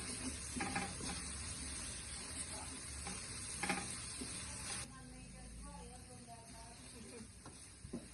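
Coarsely chopped onion sautéing in a pan while preparing fried kwetiau, a dense sizzle and hiss with stirring scrapes that drops to a softer, steadier fry partway through.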